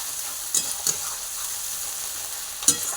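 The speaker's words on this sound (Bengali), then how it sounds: "এই যে তেল বড়াটা ভালো করে ভেজে" Fish oil fritters (tel bora) frying in oil give a soft continuous sizzle, broken by a few brief scraping stirs, close by and without speech.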